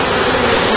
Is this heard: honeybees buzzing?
yes